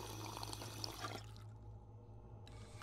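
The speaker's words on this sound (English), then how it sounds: "Ooh, water fountain. Let's drink." Water pouring and trickling from a drinking fountain in the Ghostbusters video game, a short continuous splash that cuts off partway through, faint and with no voices.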